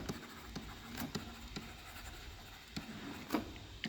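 A pen writing by hand on paper, close and quiet, with light scratchy strokes and a few sharper taps at irregular intervals.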